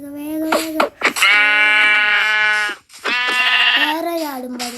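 Sheep in the Minecraft video game bleat in a few loud, wavering calls with short gaps between them, heard up close and alone.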